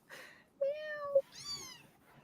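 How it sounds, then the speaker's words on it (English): A kitten meows twice in quick succession, the first a short high mew and the second a longer, rising and falling cry, fairly close and clear against a quiet room. "It's a kitten."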